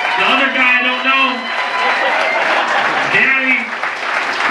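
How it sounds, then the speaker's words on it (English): Audience applause filling a live comedy show, a dense steady wash of clapping lasting throughout, with voices cheering and talking on top. "give a hand clap for everybody that performed"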